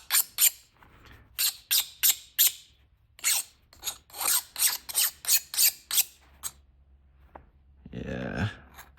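File rasping across a hardened knife blade in a rapid series of sharp scraping strokes, close and distinct, followed by a louder rubbing noise at the end.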